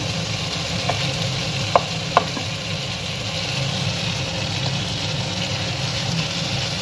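Tomatoes sautéing in oil for a katla fish curry, a dense steady sizzle under a low hum, with a couple of sharp spoon taps against the pan partway through.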